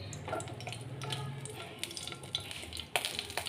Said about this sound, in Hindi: देखिए, खड़ा मसाला हमारा तड़कने लगा